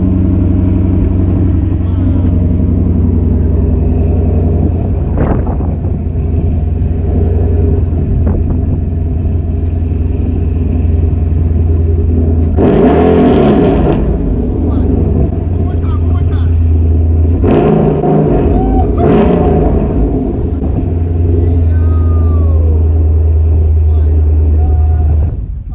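A car fitted with a Magnaflow XMod exhaust rumbles loudly and deeply during a cold start, a steady close engine drone with the throttle pressed, while people exclaim in bursts over it.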